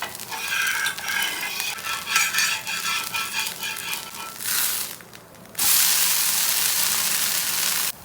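Tomato dosa cooking on a hot pan: scraping and stirring clatter at first, then a loud, steady broadband sizzle after it is flipped onto the surface.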